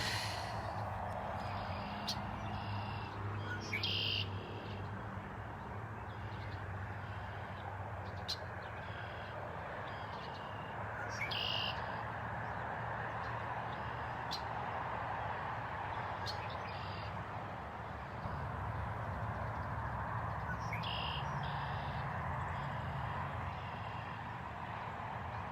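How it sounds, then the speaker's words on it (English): Birds sing outdoors on a spring walk, scattered chirps and calls over a steady background wash of rustling and breathing-like noise throughout. "listen to the birds"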